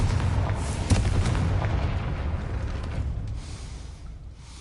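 Confringo explosion spell in a Hogwarts video game, a loud close boom with a sharp burst early on, then a rumbling crackle that slowly fades over several seconds.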